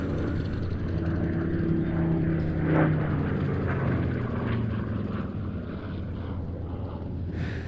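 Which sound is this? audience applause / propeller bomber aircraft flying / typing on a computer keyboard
propeller bomber aircraft flying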